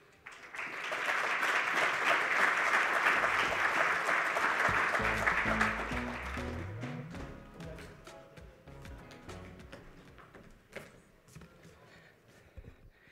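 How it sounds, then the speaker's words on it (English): Sustained audience applause fills a green hydrogen conference hall, loud and steady for about five seconds before thinning into scattered claps and room noise. "Dr. Chikuwari deserves a bigger round of applause"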